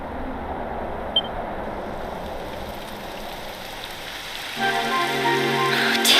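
Rain begins falling in the fantasy role-playing video game Dragon Quest XI, a steady hiss of downpour that swells slightly toward the end as a musical tone enters.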